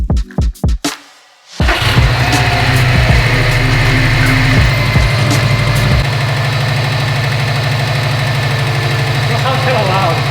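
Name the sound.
Subaru STI engine running with abnormal timing belt noise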